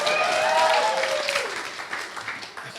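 Audience applause at a comedy night fills a small room with a dense, steady wash of clapping that slowly fades, and a voice speaks briefly over the start.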